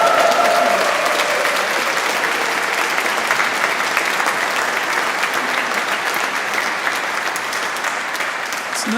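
An audience at a choir concert in Malmesbury Abbey applauds in a sustained, dense burst of clapping that fills the stone space and stays loud throughout.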